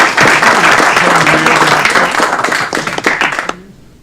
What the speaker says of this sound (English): A round of applause for Faith Young.